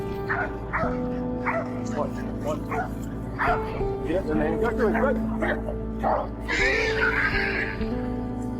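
Bay and catch dogs on a hog hunt bark, yip and whimper excitedly in rapid, overlapping bursts close by, with people talking underneath.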